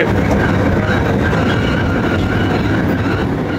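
Himalayan steam train in Darjeeling running on rails and beginning to slow, a loud, dense rumble and rattle of wheels and carriages, continuous and close, with no voices.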